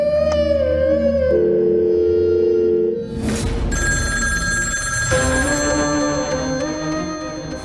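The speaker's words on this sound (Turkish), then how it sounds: "Sen aç telefonu." A telephone rings in a Turkish-dubbed drama, an insistent electronic ringtone that starts midway through after a sustained tonal passage and continues under dramatic music-like swells.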